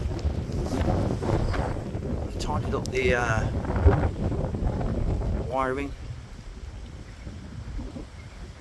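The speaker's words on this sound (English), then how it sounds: "Oh man, it is so horribly windy." Strong gusts buffet the microphone beside a narrowboat on the Lancaster Canal, a rough, continuous roar of wind under someone talking.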